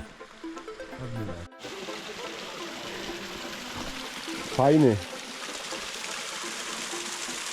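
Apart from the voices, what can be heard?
small waterfall flowing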